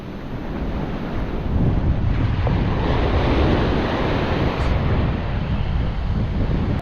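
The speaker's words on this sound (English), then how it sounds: "Bit of a breeze, bit of wind come up on the water now." Wind buffets the microphone while surf rolls in along an isolated beach during a solo fishing outing, a continuous loud roar of breeze and breaking water with no voices.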